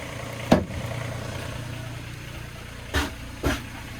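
A Yanmar diesel engine idles steadily in a Doosan DX19 mini excavator, a close, even mid-pitched rumble broken by three sharp knocks.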